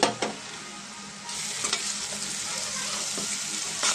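Oil sizzling steadily in a pan while fish curry cooks with salt and turmeric, a close continuous hiss with a few faint stirring scrapes.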